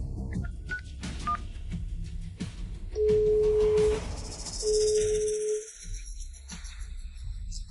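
A telephone number being dialed: two long electronic dialing tones in sequence, fairly clear over a quiet room with faint background noise.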